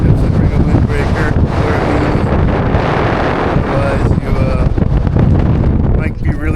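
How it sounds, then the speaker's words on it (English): Strong wind on the exposed summit of Mount Davidson buffets the microphone in a loud, continuous roar with rough gusting texture throughout. "there's no protection from wind as we're on the top"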